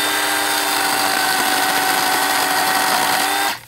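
A high, steady electric whine of a Makita 18V X2 (36V) 12-inch cordless chainsaw cutting a tree, running continuously at close range, then cutting off abruptly at the end.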